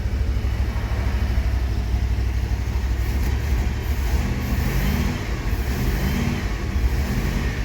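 A car engine idles while the car sits on jack stands, its cooling fan and a soft exhaust note forming a steady, close, even rumble and hiss with no talking.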